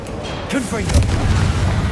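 A loud booming explosion from a Confringo blasting spell in the Hogwarts Legacy video game, with deep rumbling thuds rolling on after the blast while a voice briefly calls out over it.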